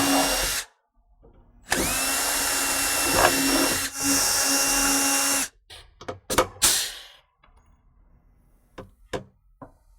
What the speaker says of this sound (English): you can go ahead and drill the remaining holes and install the remaining rivets